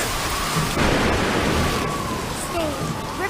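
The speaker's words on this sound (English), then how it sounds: "The stage, Riverbank A. Weather condition is a tropical storm." Heavy tropical storm rain pours steadily in a World Trigger anime battle on a riverbank stage, with a thunder rumble in the mix and faint voices underneath.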